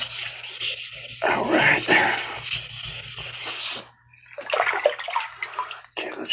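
A sharpening stone is rubbed flat against an abrasive sheet in a wet, scraping back-and-forth rhythm that pauses briefly, then resumes with some water noise; a voice speaks a couple of words.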